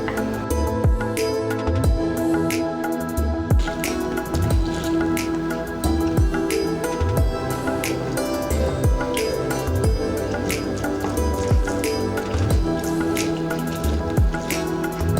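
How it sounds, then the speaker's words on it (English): Halved blood oranges squeezed by hand in a kitchen, giving repeated wet drips and squishy pressing sounds in a steady rhythm over continuous background noise. "So now we're gonna juice the oranges."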